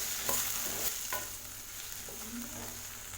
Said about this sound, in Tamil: இதே லேசாக வதக்கிக்கோங்க